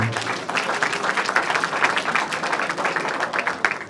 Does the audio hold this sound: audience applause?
yes